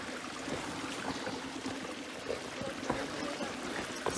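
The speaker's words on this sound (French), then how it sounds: "Et oui, on arrive sur une petite rivière." A small mountain river with a little pool flows nearby, a soft continuous trickling and pouring wash with faint splashes, steady and fairly quiet.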